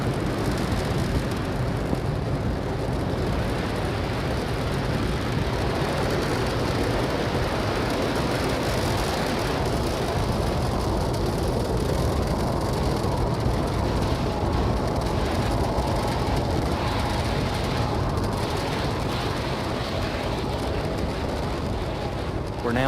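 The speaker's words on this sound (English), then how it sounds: "Falcon 9 has taken off. It's cleared the tower" Falcon 9 Block 5 rocket climbing after liftoff on a polar launch, a steady distant rumbling roar that continues throughout under a commentator's voice.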